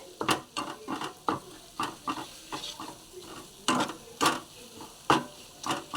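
A spoon stirs a spice mix with gram flour in a pan, giving repeated close scraping and clacking strokes in an uneven rhythm over a faint sizzle.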